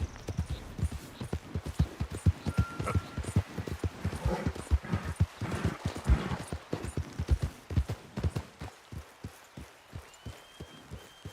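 Horse hooves clip-clop steadily on the ground in Red Dead Redemption 2, a regular walking rhythm of close, distinct thuds lasting throughout, with faint background ambience and a brief soft tone.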